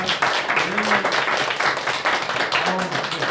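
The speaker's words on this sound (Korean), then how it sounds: "일어나서 우리 또 박수 한번 하겠습니다." A church congregation standing and clapping during a Sunday worship service, a dense wash of many hands clapping steadily, with a couple of brief voices rising through it.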